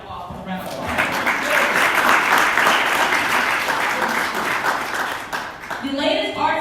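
A crowd at an arts council's annual meeting applauds, swelling quickly into broad, steady clapping that fades near the end as a voice resumes.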